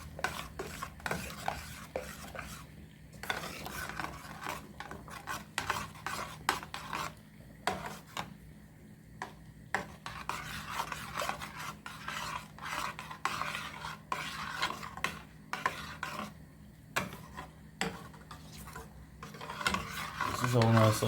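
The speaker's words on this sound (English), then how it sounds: "Now all I have to do again is just stir this." Jamaican cornmeal porridge is stirred in a pot with a utensil, making close, steady scraping and rubbing strokes against the pot that repeat in an even rhythm for about twenty seconds.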